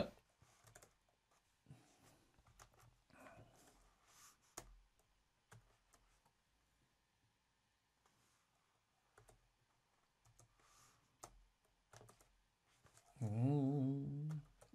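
Typing on a computer keyboard while entering an account name: bursts of soft, close key clicks with pauses between words, fairly quiet, ending with a short stretch of voice.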